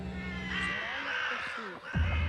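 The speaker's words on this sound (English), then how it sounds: "Crows gather here all the time, and they sit in front of my window cawing." Crows caw near a window, harsh calls rising over a noisy, layered background with what seems to be a voice mixed in, moderately loud throughout.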